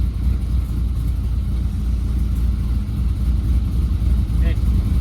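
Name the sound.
Chevrolet C10 truck engine idling at about 700-800 RPM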